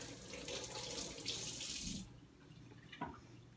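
A kitchen tap runs steadily into a sink while a zucchini is rinsed under it, a close, continuous splashing hiss that stops about two seconds in, followed by a faint clink.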